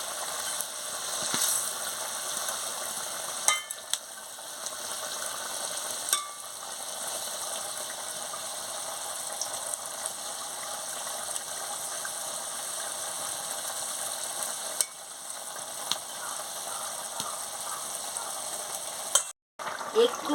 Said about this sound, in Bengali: মাছটা দিয়ে ভালো করে ফুটিয়ে নিচ্ছি